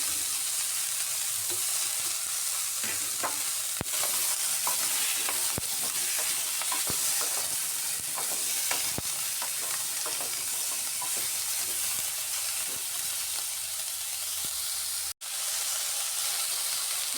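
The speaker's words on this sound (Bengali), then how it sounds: "হলুদ দিয়েও ভালো করে নেড়ে করে পটলগুলো" Potol (pointed gourd) with turmeric stirred in a pan of hot oil, a loud continuous sizzle broken by sharp scraping and clacking strokes of the spatula, with one brief dropout near the end, and no voices.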